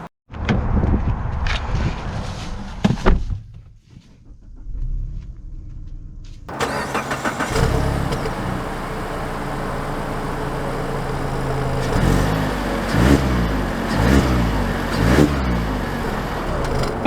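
A 2022 Mazda CX-30 Premium Plus Turbo engine cranks and catches, idles briefly, then settles into a steady mid-pitched hum while driving off, with a few louder surges of acceleration toward the end.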